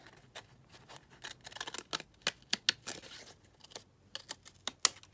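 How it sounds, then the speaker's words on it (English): Decorative scissors cut through paper in a series of close, crisp snips and slicing rasps, irregularly spaced with short pauses and no voices. "So if I just cut it with the decorative scissors"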